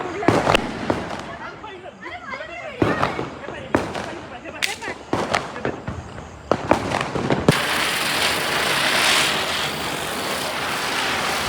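Diwali firecrackers burst outdoors with several sharp loud bangs spaced a second or two apart, then a sustained crackling hiss of a fountain or sparkler, while people talk and shout nearby.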